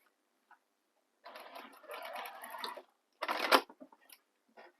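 A sewing machine stitches slowly around the curves of a handmade bag, running in two short bursts of steady mechanical whirring separated by brief pauses, close up, with no talking.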